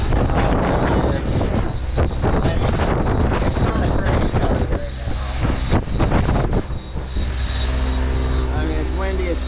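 Loud, gusty wind of 20-plus knots roaring and buffeting the microphone continuously on a sailboat in the Bahamas, with rushing water and a low engine-like rumble underneath; someone speaks through it.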